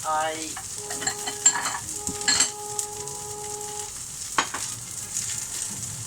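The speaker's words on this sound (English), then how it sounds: "as that sizzles down, as that literally starts to break down" Food frying in oil in a pan for egg fried rice: a soft, steady sizzle with occasional stirring scrapes and light clinks of a utensil, close and fairly quiet, with no talk.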